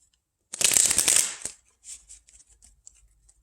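A deck of cards is riffled in one quick, crisp burst, followed by several softer taps and flicks as the cards settle.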